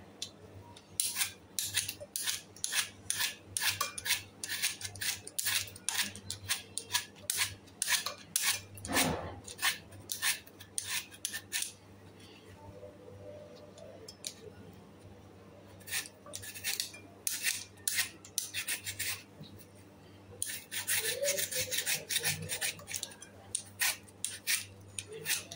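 A knife chops food finely on a plate, fast rapid tapping clicks in long runs with short pauses, close and crisp over a low steady hum.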